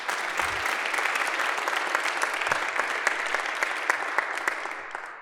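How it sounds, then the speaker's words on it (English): An audience at an AI ethics panel event gives sustained, even applause for the panelists, a steady wash of clapping with sharper individual claps standing out, tapering off at the close. "Just one more round of applause for our amazing panelists."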